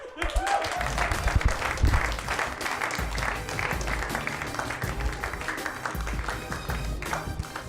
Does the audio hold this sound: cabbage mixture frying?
no